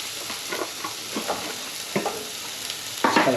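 Peppers and onion fry in a pan with a soft, steady sizzle, broken by several stirring scrapes and a louder burst of spatter near the end; close and without speech.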